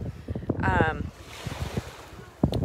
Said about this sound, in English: I'm walking backwards because the wind noise is absolutely terrible.